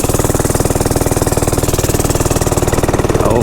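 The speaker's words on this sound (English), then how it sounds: "Let's fire the bike up" A small single-cylinder engine on an Amazon mini bike runs loud and close, with a fast steady chugging pulse that climbs slightly in pitch toward the end.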